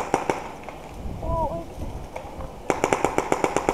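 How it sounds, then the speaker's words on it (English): Dye NT11 paintball marker firing at a bunker on an outdoor paintball field: a few scattered pops, then a quick rapid-fire string of sharp shots, with some talk in between. "Just start shooting at that bunker."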